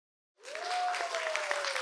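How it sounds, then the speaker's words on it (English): Audience applause breaking out suddenly after silence, a loud, sustained burst of many people clapping with a few cheers and a whistle-like tone running through it. "I just want your help giving a big round of applause to ourselves."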